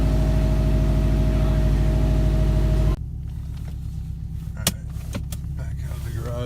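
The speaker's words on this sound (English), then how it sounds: "Warming up the Subi real quick." A Subaru Legacy GT warms up with a steady, loud low engine drone for about three seconds. The sound then drops to a softer rumble broken by a few sharp clicks.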